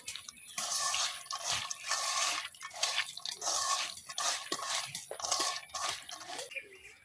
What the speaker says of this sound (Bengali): হাত দিয়ে সবকিছু খুব ভালোভাবে মাখায় নেম